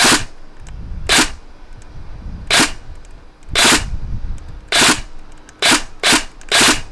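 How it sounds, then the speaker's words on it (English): Sharp, loud pops from a Tokyo Marui NGRS MP5A5 airsoft gun, some single and some in quick clusters of two or three, with handling noise between shots. "even when it's in 3-round burst, you can just pop one off"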